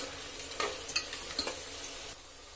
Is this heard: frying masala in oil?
yes